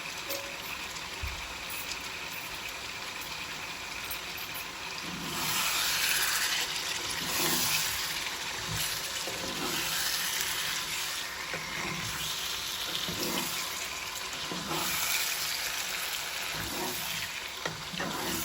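Tap water runs steadily into a sink to wash chicken giblets (gizzards and livers), a broadband wash that swells louder midway with faint knocks and clatter, no voices.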